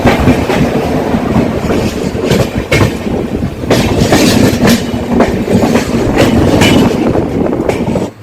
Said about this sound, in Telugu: బద్నేరా జంక్షన్ స్టేషన్ డిపార్చర్ చూడండి ఫ్రెండ్స్.